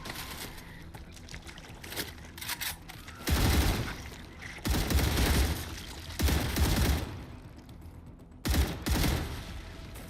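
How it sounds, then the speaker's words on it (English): Rifle gunfire in a factory-building survival game as the player shoots hostile enemies: several loud, broadband bursts of shots in clusters, separated by quieter stretches of background game sound. "We just decimated the enemies in a couple of shots."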